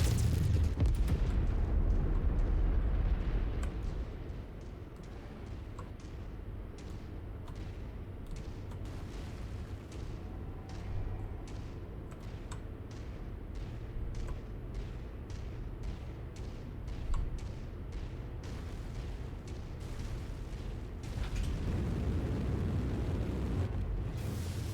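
Deep booming blasts as a tank is destroyed in MechWarrior 5 combat, a heavy explosion at the start fading into a rumbling roar with crackling debris, then another swelling blast near the end.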